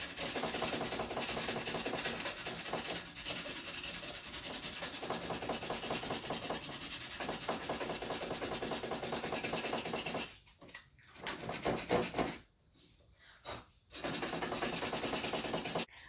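Wood on a wine cabinet is sanded with 150 grit sandpaper, making a loud, continuous rasping rub with rapid back-and-forth strokes that keep going, broken by a couple of short pauses near the end.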